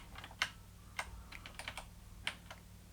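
Keys clack on an Atari Mega ST computer keyboard, a sparse irregular run of crisp close presses with short pauses between them in a quiet room.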